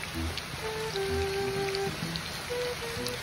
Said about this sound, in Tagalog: habang kumakain tayo, kasabay nun ay bumubuhos din dito yung mga patak ng ulan